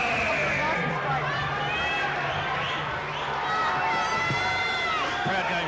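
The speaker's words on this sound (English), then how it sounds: "Crowd going berserk here again at the Collingwood Town Hall, and Darren Miller is sizing up Lincoln Stew" Spectators roar and cheer throughout a boxing match at Collingwood Town Hall, a loud sustained crowd din with rising shouts, while a commentator talks over it.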